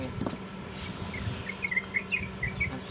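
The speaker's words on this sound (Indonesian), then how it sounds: "bunyi suara burung. Banyak burung di kawasan ni." Small birds chirp outdoors in a rural village area, with quick high tweets repeating near the end over a steady outdoor background hum.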